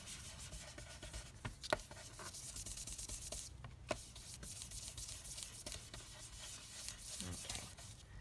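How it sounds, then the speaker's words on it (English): Paper edges are rubbed with an ink pad, making quiet, soft scratchy brushing strokes at close range, with a few light taps in between. "So just going to ink that up."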